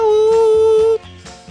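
A voice imitates a high-pitched new telephone dial tone, holding one sustained, sweet, piercing pitch for about a second. Quieter background sound follows after the tone stops.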